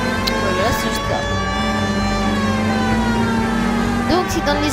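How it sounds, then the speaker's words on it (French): A police car siren in the 1940s Los Angeles crime game L.A. Noire wails steadily and loudly, with a continuous rising and falling tone over a low engine hum. "Donc on va mettre la petite sirène"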